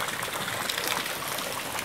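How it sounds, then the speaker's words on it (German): An overflowing rain gutter spills water in a steady, hissing gush, close and continuous, beside a flooded yard during heavy rain. "Die Regenrinne läuft über"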